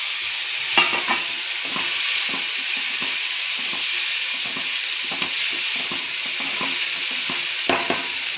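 Chopped tomatoes frying in a pan for a leafy curry cooked without water, an even hiss of sizzling oil under frequent light scraping of a spatula, close up and steady.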